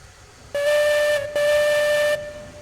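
A steam locomotive whistle in the railroad game Railroads Online gives two loud, steady tonal blasts, the first about half a second long and the second longer, separated by a brief gap, with no talk.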